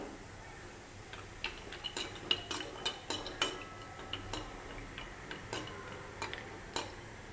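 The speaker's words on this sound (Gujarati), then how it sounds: "હવે આપણે ઘીમાં કાજુ અને બદામને શેકી લઈશું" Cashews and almonds roasting in ghee in a pan while being stirred, a quiet run of light, irregular metallic clicks and scrapes from the spoon against the pan, with no talk.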